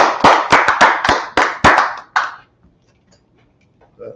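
About eight sharp, loud claps in quick succession from a small group in a room, then they stop, leaving near silence and a faint sound at the end.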